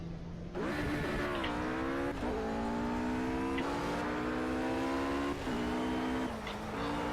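Racing cars crowd the track in the Project Cars game, engines roaring loudly and close together. The pitch climbs and then drops abruptly at several gear shifts, with a constant dense hiss of traffic underneath.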